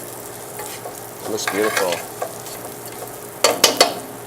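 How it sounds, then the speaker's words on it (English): Rice stirred through melted butter in a pan for chicken fricassee, with a soft sizzle and scraping strokes that turn into a few sharper, louder scrapes near the end, while a person briefly speaks. "So she's stirring the rice."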